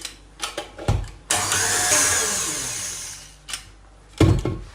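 An electric hand mixer whisks cake batter with vanilla, oil and milk added, a steady loud whirring buzz running for about two seconds between clattering knocks of the bowl and utensils.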